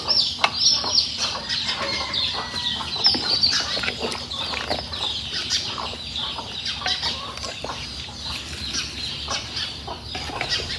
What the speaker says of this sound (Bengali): গ্রামে মাটির চুলায় রান্না পাখির কিচিমিচির শব্দ সব শুনতে শুনতে